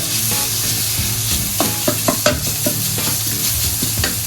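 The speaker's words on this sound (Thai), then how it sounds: "นำหมูสับนะครับ ใส่ลงไปเลย ผัดให้เข้ากันเลย" Minced pork is stir-fried with stink beans in shrimp paste, making a loud, continuous sizzle broken by repeated close spatula scrapes and taps against the pan.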